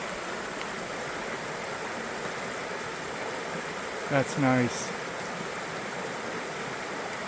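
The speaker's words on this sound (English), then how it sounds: "here's some riffles of Hay Creek" Steady rushing of water flowing over the riffles of Hay Creek in Berks County fills the scene, with a brief spoken remark partway through.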